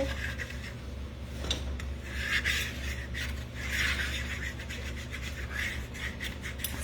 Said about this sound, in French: Puis j'y vais avec ma fourchette. En raclant les bords.